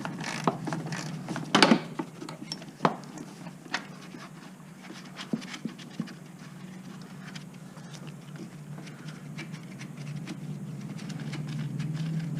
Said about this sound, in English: you want to loosen the bolts, the rest of the way